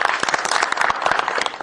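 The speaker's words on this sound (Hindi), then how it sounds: "एक बार जोरदार ताली।" A loud round of applause from a crowd gathered for a Valentine's Day event by Bahujan journalists at Ambedkar's birthplace, dense clapping sustained throughout with no voices on top.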